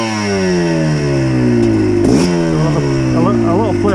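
A GPX TSE 250R motorcycle engine revs up and down repeatedly, its pitch rising and falling with throttle blips and clutch play, loud and close, with a brief clattering burst midway.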